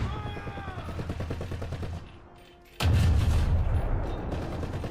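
Rapid video-game gunfire in bursts, a rattling machine-gun stream, then a short lull and a loud booming volley close by, under excited talk.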